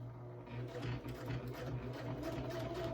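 A sewing machine runs slowly and steadily, top-stitching a small wristlet bag with a continuous close mechanical hum and faint needle pulses throughout.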